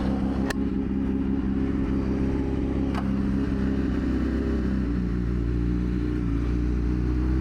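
A factory BMW WorldSBK superbike runs on a racetrack with a continuous low engine drone and rumble at steady speed, heard from onboard with wind noise and a couple of faint clicks.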